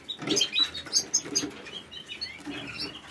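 Small caged birds, held in a wooden cage, chirp and flutter their wings in quick overlapping bursts, close by and fairly lively, with no talking.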